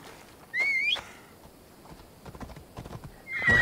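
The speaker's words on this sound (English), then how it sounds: "my horse is back from the dead" A horse in the game Assassin's Creed Odyssey gives a sharp neigh, followed by a run of clip-clopping hoofbeats and a second whinny at the end, fairly close and with no talk over it.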